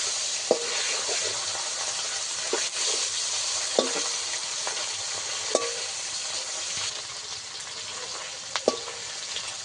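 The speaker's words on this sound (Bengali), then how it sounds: "সব মাছের মাথাগুলো আমি ভেঙে দেবো।" Hilsa fish heads sizzle in a pan of oil while a spatula breaks them up, giving a constant frying hiss cut by several sharp knocks and scrapes at irregular intervals.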